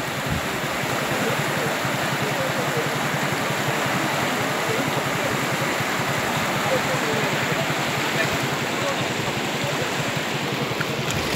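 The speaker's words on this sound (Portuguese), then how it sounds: "Muita água aqui, o Rio Ipanema hoje" Floodwater of the Ipanema River rushing after two days of heavy rain near the village of Fazenda Nova, a steady broadband roar that runs unbroken and fairly loud throughout.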